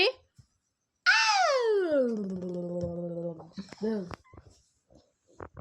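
A cat meows at night: one long, loud, drawn-out meow close by that falls in pitch, then a few short, softer noises and quiet.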